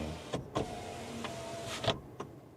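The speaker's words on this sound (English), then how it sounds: "here, this is the window control. Oh, that sounds like you're about to die." Electric window motor on a Dacia Spring electric car, a faint whirring run with a few soft clicks and knocks, heard up close inside the cabin.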